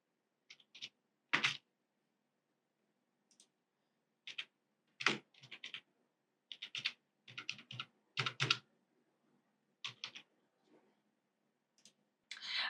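Quiet, irregular bursts of computer keyboard typing, with short runs of clicks separated by pauses, as a bank IFSC code is entered into an online application form. No voices.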